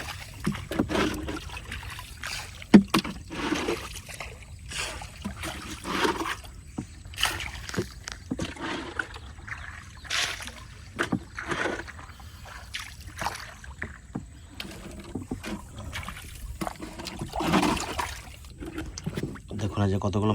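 A boat drifts along on a river current, with soft water trickles and splashes running under near, steady conversation throughout.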